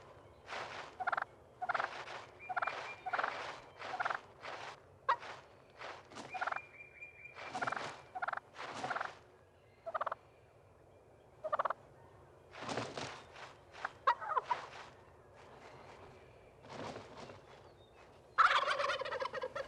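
Wild turkeys in a flock, including a dominant gobbler and hens, call in a scattered series of short bursts, with occasional rattling gobbles, gurgling clucks and faint rustling footsteps in between.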